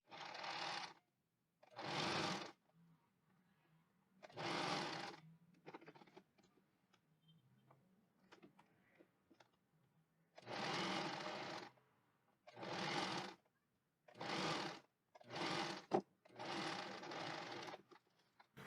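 A sewing machine stitches a French seam with a 1 cm seam allowance through pinned fabric, in several short bursts of rapid, even stitching separated by quiet pauses.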